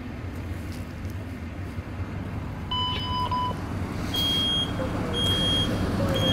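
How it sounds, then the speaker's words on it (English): Short, high electronic beeps from a smoke alarm chirp a few times in a repeating pattern over a steady low background rumble during a fire demonstration. "You can hear there that the smoke alarm going off."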